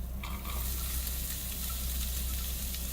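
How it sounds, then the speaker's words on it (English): Onions sizzle steadily in olive oil in a pan over medium heat, a continuous close hiss of frying that holds level throughout with no voices. "Now we will add the onions."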